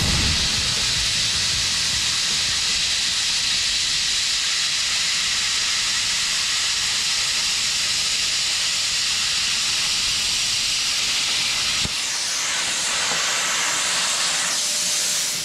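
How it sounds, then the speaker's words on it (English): A YesWelder CUT-55DS plasma cutter slices through rusty, mill-scaled 1/8 inch steel, producing a loud, continuous close-up hiss that holds steady for about twelve seconds, then cuts off abruptly, leaving a quieter airy rush trailing away. "We're gonna be cutting through 1/8 inch steel."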